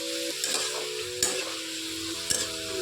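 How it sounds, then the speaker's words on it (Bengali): Ground radhuni paste being stirred into cucumber and vegetables for Bengali shukto in a pan, a steady soft sizzle with a few sharp spoon scrapes and knocks against the pan, close and alone with no voices. "দিয়ে ভালো করে মিলিয়ে নিচ্ছি। এভাবে সুন্দর করে মিলিয়ে নিচ্ছি।"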